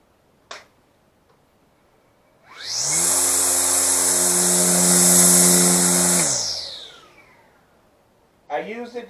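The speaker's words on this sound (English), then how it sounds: "now, last but not least, we got the trimmer" A Greenworks 40V battery string trimmer spins up with a rising electric whine, runs loud and steady for about four seconds, then winds down, with a few sharp clicks of handling before and after.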